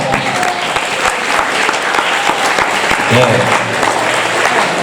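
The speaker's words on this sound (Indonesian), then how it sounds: "Tepuk tangan untuk ananda semuanya" Applause for students at an Islamic boarding school lesson on science and foreign languages, a steady wash of clapping from a room of people, with voices mixed underneath.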